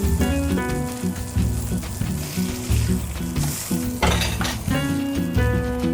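A lamb burger patty fries in butter in a pan, a steady sizzle running throughout with occasional clinks of a utensil and a brief scrape, loud and close, while music plays underneath.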